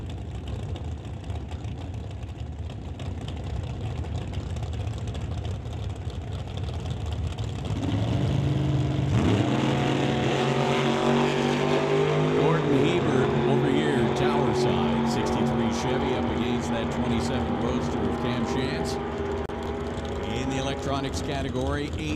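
An Outlaw 275 drag racing car engine idles at a drag strip, then swells into a loud, rough rumble over a public-address announcer's continuous talk.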